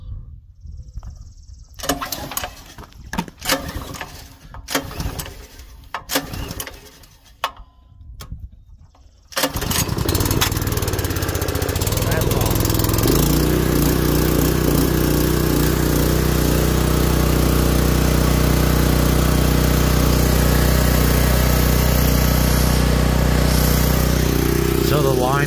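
A Brute 3000 gas power washer engine cranks with several sharp pull attempts, then catches and runs continuously, loud and close, its steady drone settling and shifting slightly in pitch as it keeps running.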